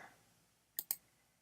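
A computer mouse gives two quick, crisp clicks in close succession, close but quiet, in an otherwise near-silent room.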